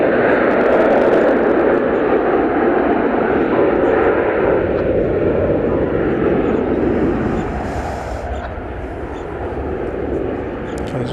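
An airliner lifting off from DFW Airport in the evening, its loud broad engine roar peaking early then easing as it climbs away.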